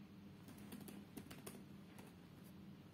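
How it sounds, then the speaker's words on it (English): Light, faint typing on a laptop keyboard, a quick run of soft clicking keystrokes in a quiet room with no talk. "After this, just type drivers."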